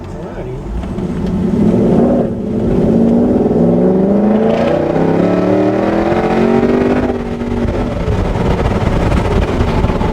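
The engine of a restomod 1949 Ford F-1 truck pulls on a test drive, its rumbling note climbing through moderate acceleration, easing, then building again, heard from inside the cab while someone talks over it.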